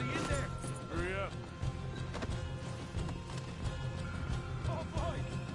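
Horses in a cowboy video game, hooves clip-clopping under game dialogue, with a horse whinnying near the start and more neighs later, plus thuds and clatter throughout.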